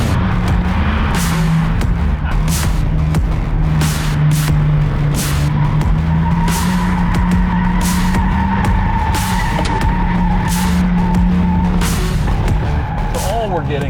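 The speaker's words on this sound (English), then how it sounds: "very lightly sliding out, and then we just plow totally around" A supercar engine drones loudly while tires scrub and skid on pavement as the car slides into understeer, with sharp intermittent bangs and a person talking over the noise.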